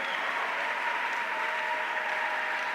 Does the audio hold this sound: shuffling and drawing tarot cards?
no